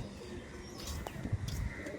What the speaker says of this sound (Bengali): এই যে পায়রাটা বাইরে বেরিয়ে গেল